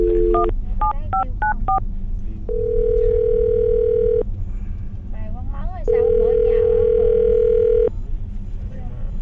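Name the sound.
telephone dial tone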